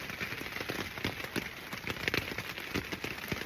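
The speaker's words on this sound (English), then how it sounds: "Listening to the rain." Steady rain drums on a tent, a dense crackling patter of near drops with no pause, along the Appalachian Trail during a southbound thru-hike.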